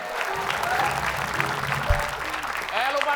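Studio audience applauding at an Indonesian comedy quiz show, a steady broadband patter of many hands lasting a few seconds, with voices talking over it.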